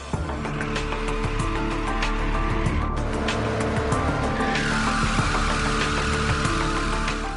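A Bugatti Veyron tyre spins on a tyre-testing torture machine under forces beyond track conditions, a loud, steady roaring whine with harsh rubbery hiss, continuous and close, with no talking.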